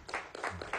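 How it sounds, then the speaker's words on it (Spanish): Crowd applause at a Venezuelan government event, heard as short bursts of clapping rising and falling over a brief moment, fairly faint. "aplausos del pueblo, pues."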